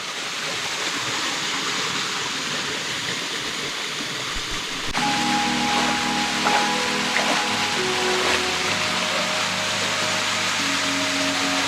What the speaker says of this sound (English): I guess the fall might be way more impressive when it's been raining a lot